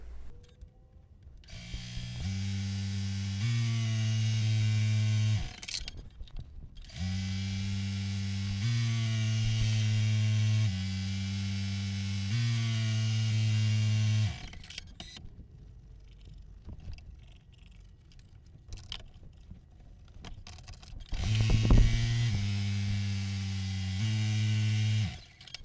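An embroidery machine stitches quilting in yellow thread with a steady, loud mechanical hum, running in long sustained stretches broken by brief pauses and a quieter stretch before it starts again.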